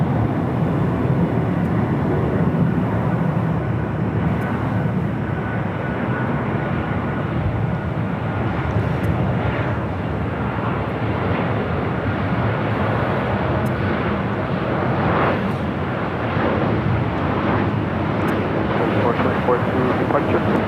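An Alaska airliner lands on runway 24 right at Los Angeles International Airport, making a loud, steady roar of jet engine noise that fills the whole stretch without letting up.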